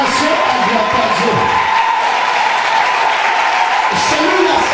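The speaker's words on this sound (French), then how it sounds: "C'est l'acclamation à Dieu." A church congregation acclaims God with loud, continuous applause and cheering, a dense crowd roar with voices mixed in, steady and close throughout.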